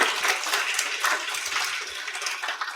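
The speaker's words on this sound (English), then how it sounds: "Yes, claps up there." Live podcast audience in The Hague clapping, a dense, steady patter of many hands at moderate distance filling the room with no talk over it.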